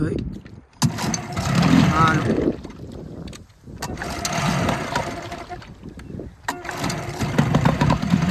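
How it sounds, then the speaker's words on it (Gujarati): The engine of a fishing boat out crabbing is started: it sputters and roars in uneven bursts, cutting out and catching again, close and loud, with someone talking over it. "આ લોકો હવે મશીન ચાલુ કરી રહ્યા"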